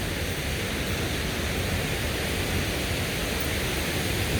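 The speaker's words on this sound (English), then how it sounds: "You can hear the falls." A waterfall on the White River roars as a steady, dense rush of white water, constant and unbroken throughout, with no voices over it.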